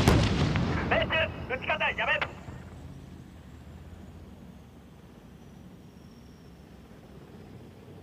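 Tank guns fire during a Japanese military exercise: a heavy blast at the start is followed by radio-style talk, and then a long rumbling tail fades into steady background noise.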